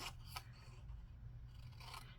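Scissors snipping a notch in a scored cardboard gable box, a few quiet crisp cuts and rasps close by at low level.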